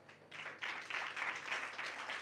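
A church congregation claps together in a rhythmic, building pattern, repeated group claps merging into a continuous patter, heard from a moderate distance at low volume.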